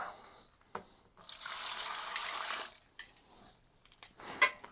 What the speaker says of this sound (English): drip Evaporust everywhere